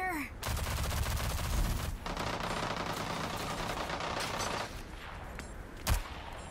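Dense automatic gunfire in the shooter Rogue Company rattles on continuously for several seconds, then drops to a quieter rumble with one sharp shot near the end.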